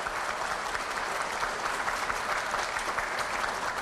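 An audience at a public farewell event for an agriculture official claps steadily, a dense, even wash of applause from many hands that holds at the same level throughout.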